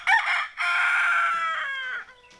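A rooster crows loud and close on a desi free-range chicken farm, one full drawn-out cock-a-doodle-doo call lasting about two seconds, clear and unaccompanied.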